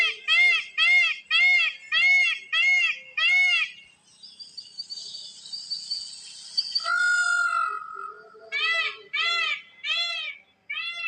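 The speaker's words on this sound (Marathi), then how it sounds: "मोरांचे आवाज येतोय आवाज ऐकायला" Loud, repeated wailing peacock calls in rhythmic bursts from nearby hills in the morning, with a stretch of higher shrill calling in the middle, fairly close.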